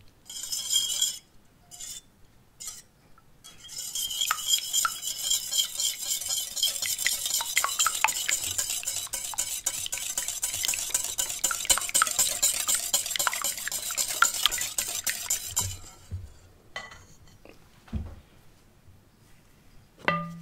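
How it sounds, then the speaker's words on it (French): Eggs for a cherry clafoutis are whisked in a bowl, a rapid, continuous clinking beat close up that lasts around twelve seconds, framed by a few taps at the start and quieter handling afterward. "Ensuite, on va mélanger les œufs."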